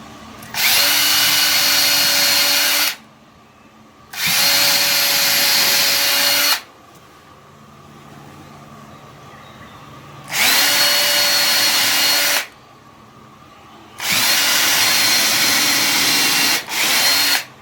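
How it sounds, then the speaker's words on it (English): A power drill whines loudly in four separate bursts, pre-drilling holes to mount window blinds, each lasting a few seconds, with quieter gaps of faint background noise in between. "And pre-drilling to make it a lot easier to install."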